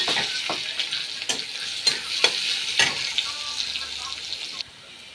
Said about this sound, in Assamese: পিঁয়াজটো এতিয়া অলপমান ভাজি ল'ম বহুত বেছি নহয়